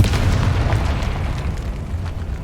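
Confringo blasting spell exploding in Hogwarts Legacy inside a decayed catacomb, a continuous deep booming rumble that stays loud and dense for a couple of seconds with no voices over it.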